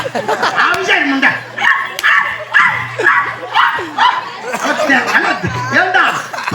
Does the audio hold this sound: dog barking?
yes